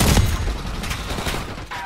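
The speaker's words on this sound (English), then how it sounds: "They have a sentry gun up." A sentry gun rattles in Call of Duty Black Ops 6 multiplayer, a dense burst of rapid automatic fire for nearly two seconds, loud and close.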